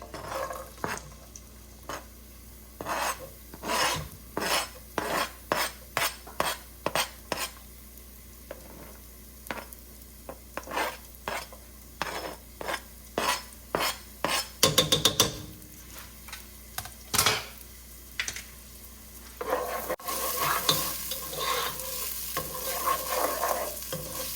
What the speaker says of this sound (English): You just want to get these onions sauteed.